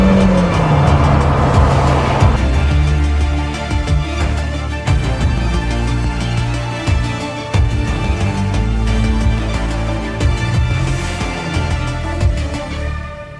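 Lamborghini Temerario supercar driving, a loud engine roar that drops after a couple of seconds into a busy rumbling, burbling mix of lower engine tones and road noise, with no talking.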